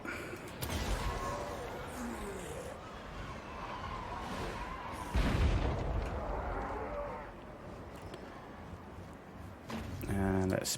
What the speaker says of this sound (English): Now let's use the hell cannon.